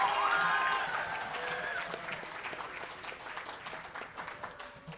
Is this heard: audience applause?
yes